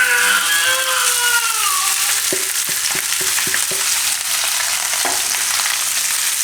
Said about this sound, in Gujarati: આ રીતે બધું ઘીમાં શેકી લેવાનું.